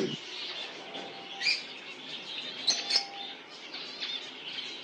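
Finches chirp at a small breeding farm, several quick, bright tweets rising above a soft background hiss, with a couple of louder calls scattered through the stretch.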